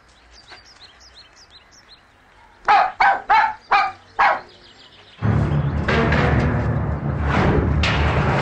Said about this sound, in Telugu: కుక్క పిల్ల రోడ్డు మీద వేశారు.